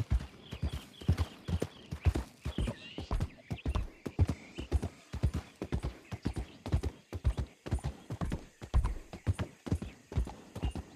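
A horse's hooves clip-clop in a brisk, even rhythm in the Red Dead Online video game, close and distinct, with a brief whinny partway through.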